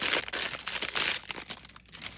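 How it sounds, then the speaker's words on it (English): Plastic bag crinkling and rustling as a paintbrush is pushed inside, a quick run of close, irregular crackles and crumples that fades toward the end. "I usually put my brush in a plastic bag so it doesn't dry out"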